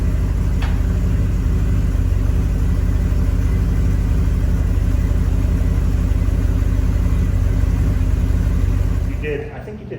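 Warm 1978 Porsche 928 engine idling smoothly, a steady low rumble close by that holds evenly for several seconds before cutting off near the end.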